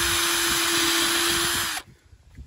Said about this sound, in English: I drilled the other one.